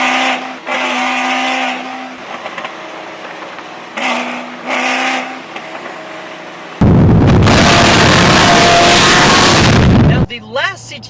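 A 600-wheel-horsepower Cadillac CTS-V engine and exhaust erupts into a loud, sustained roar for about three and a half seconds, following a stretch of talking, then cuts off abruptly.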